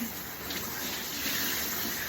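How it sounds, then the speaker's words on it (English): Water spraying steadily from a detachable shower head during a shower, a constant loud hiss with no pauses and no one speaking over it. "I have a nice little detachable shower head"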